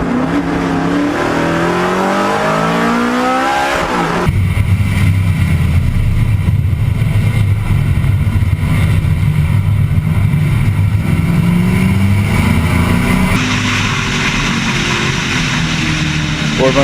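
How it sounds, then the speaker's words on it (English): A Ford Mustang Boss 302 race car engine roars past in a historic Trans-Am race at COTA in the wet, pitch climbing and dropping as it shifts, then a loud sustained engine drone fills the rest, up close. "Ford Mustang Boss 302, a popular car in this class."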